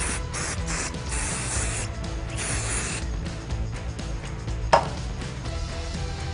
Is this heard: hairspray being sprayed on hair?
yes